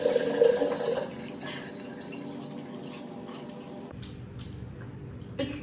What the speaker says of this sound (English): I'm going to wash it up with plain water